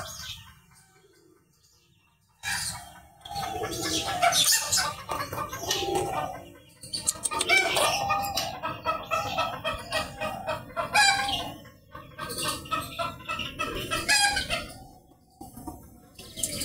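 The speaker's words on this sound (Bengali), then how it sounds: "দেখুন কতটা কিউট মুরগি, কতটা কিউটের ডিম্বা।" Chickens cluck and crow close by in a poultry coop, with busy overlapping calls, occasional wing flaps and a steady hum beneath, loud and continuous with no talking.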